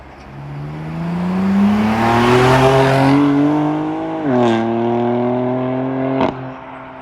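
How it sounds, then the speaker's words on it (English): A BMW F80 M3 engine revs up with rising pitch, briefly dips as it shifts, then climbs again into a loud, raspy exhaust drone with a sharp pop near the end. "The sound of the M3 and the M4 platform as stock isn't the best."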